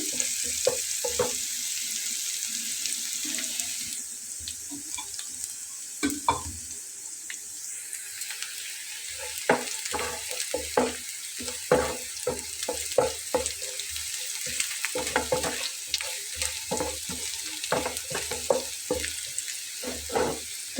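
Eggs frying in a pan to a light golden stage, a soft oily hiss beneath repeated clattering stirs and scrapes that grow busier toward the end, no speech.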